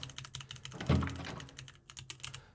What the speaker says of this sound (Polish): Słyszycie jak klikam szybko?